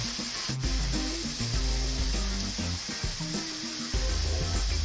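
Onion, garlic and ginger sizzle in a pan, a steady close hiss that continues throughout with no talking.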